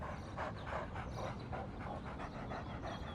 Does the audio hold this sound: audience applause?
no